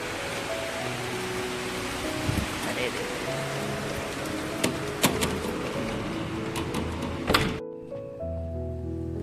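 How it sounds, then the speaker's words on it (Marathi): Steady rain hisses across the whole scene, dense and close, with a few sharper drips or taps standing out; it cuts off near the end, leaving a quieter tail with faint voices. "आणि लगेच पाऊस"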